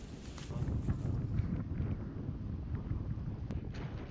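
Wind blows outdoors during rainy weather on a descent near a forest, a steady low rushing buffet of gusts against the microphone, fairly faint, with no talk.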